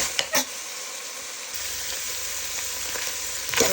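Onions sautéing in a pan for chicken rolls, a continuous low sizzle with a couple of brief spatula clinks at the start and end, nearby and free of voices.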